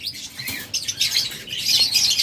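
A rainbow budgerigar pair chirps and twitters in a cage, with quick high bird calls, brief wing flutters and rustling that stay close and fairly steady throughout.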